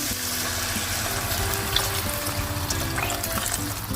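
Cooking liquid pouring into a pot of buckwheat pilaf, a continuous splashing trickle with faint sizzling underneath, close by and moderately quiet.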